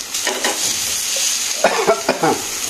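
Food sizzles in oil in a frying pan while a utensil stirs and flips it, a steady hiss with a few scraping, clattering turns toward the end, and no talk.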